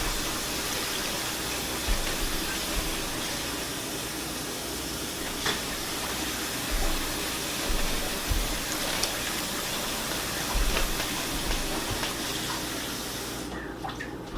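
Water pours steadily into a pan of cooked-down vegetables and beef, a continuous close gushing wash lasting the whole stretch with a few small knocks, no talking.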